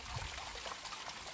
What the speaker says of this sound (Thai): เนี่ยค่ะ น้ำวน